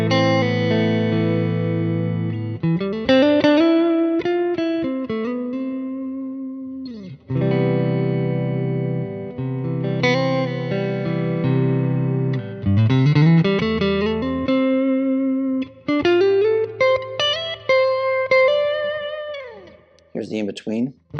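PRS SE CE 24 electric guitar played through its neck pickup in single-coil mode, ringing chords and melodic runs with effects and some distortion, loud and continuous with brief pauses between phrases.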